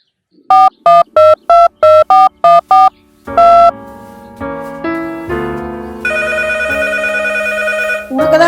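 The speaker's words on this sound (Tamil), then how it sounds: "போன் வந்துக்குது பேசுமா" A telephone rings loud and close in a short, even series of repeated electronic trills, then gives way to a sustained melodic ringtone passage with no voices.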